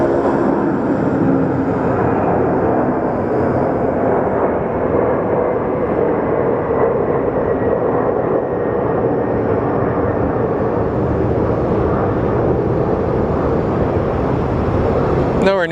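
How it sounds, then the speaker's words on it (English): An airplane making a steep takeoff at Phoenix Sky Harbor airport, heard as a loud, sustained broadband jet roar that holds steady throughout, close and dominant with no talking. "Looks like another steep takeoff."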